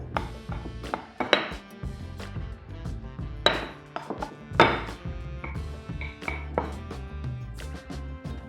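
A rolling pin works flour tortilla dough in quarter turns on a hard surface, giving soft rolling rumbles broken by sharp wooden knocks and taps at an uneven pace, close and fairly quiet.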